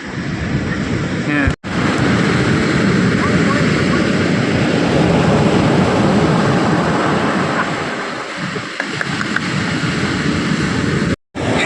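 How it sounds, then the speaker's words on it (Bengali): Sea waves roll in at Digha beach as a continuous, loud roar of surf, heavily buffeted by wind on the microphone, with brief dropouts. "এক একটার পর একটা ঢেউ আসছে, অসাধারণ ঢেউগুলো তোমাদের ঠিক মতন দেখাতে পারছি না"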